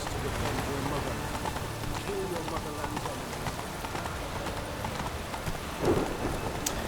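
Hooves of the horse in The Witcher 3 clip-clop at a steady run under rain-like game ambience, with someone talking over it.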